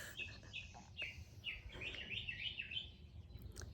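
A bird chirps outdoors near a patio, repeated bright tweets in quick runs, moderately close over a faint background hum.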